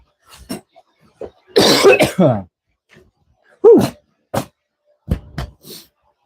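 Several separate coughs and throat clearings, close and loud, broken by short silences, with a raspy hacking burst in the middle.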